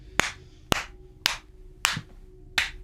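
Five sharp hand claps, evenly spaced about half a second apart, each crisp and close with a short ring-off between them in an otherwise quiet room.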